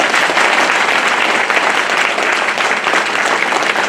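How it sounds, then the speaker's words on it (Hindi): A crowd at an address to new lawyers breaks into loud, sustained applause, a dense, even clapping that fills the whole stretch without pause. "जोरदार ताली अपने लिए बजाओ।"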